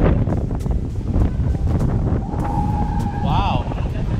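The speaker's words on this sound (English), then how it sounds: "It's probably so windy." Strong wind buffets the microphone during a boat trip to De Palm Island, Aruba, a constant loud rumbling roar, while a faint rising and falling siren-like whine briefly appears partway through.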